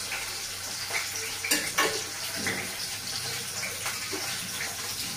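Paneer frying in hot oil in a pan gives a steady, close sizzle and bubbling, with a few louder spits and stirring scrapes over a continuous crackle.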